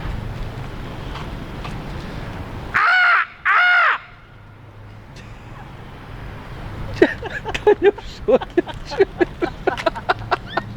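Crows cawing among very tall pine trees, two loud harsh caws close together, then a burst of quicker, overlapping caws from several birds over steady wind noise.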